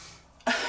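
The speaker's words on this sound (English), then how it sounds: "I just had a crazy coughing fit" One short, close cough bursts out sharply after a moment of quiet.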